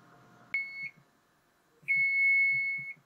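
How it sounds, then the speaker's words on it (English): Stove timer sounds two steady electronic beeps, a short one and then a longer sustained tone of about a second, clear and close against a quiet kitchen. "Okay, so the timer's gone off here."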